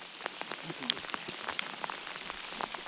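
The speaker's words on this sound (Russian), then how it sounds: "Ливень идет с Покчеван." Heavy rain pours down during a fishing trip, a steady dense hiss of drops striking water and surfaces with scattered sharper patters close by, continuous throughout with no talking.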